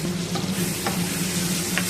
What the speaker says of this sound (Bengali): গরম হয়ে গেছে সর্ষের তেল, এর মধ্যে দিয়ে দিচ্ছি বেগুনগুলো কেটে।